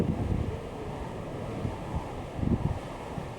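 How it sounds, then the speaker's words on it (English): Strong wind buffets the microphone outdoors in Alaska near a waterfall and snowy slopes, a steady low roar with louder gusts swelling around the middle and end, no voices. "It's getting windier, as you can hear."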